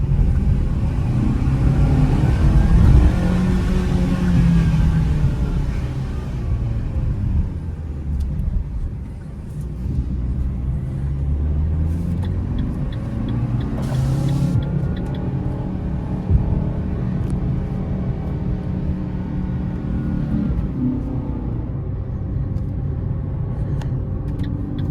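A 2023 Fiat Mobi Like 1.0 engine revving hard under acceleration, a loud continuous drone and rumble that holds high revs, heard from inside the car.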